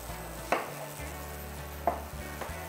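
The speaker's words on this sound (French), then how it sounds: "Donc l'oignon, je viens le recouper en deux." A kitchen knife slices through an onion on a board for a French pot-au-feu. Two distinct, fairly quiet chops are followed by a lighter tap against a low background hum.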